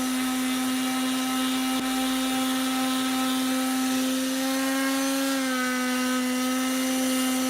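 A power sander strains while sanding deck lids, its steady loud motor whine sagging in pitch as it bogs down, continuous and close with no voices.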